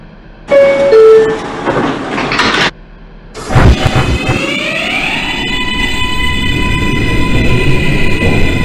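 An R142B 7 express subway train in the OpenBVE train simulator, a short burst of rumble followed by the motors whining up steadily as the train accelerates, with wheel noise throughout.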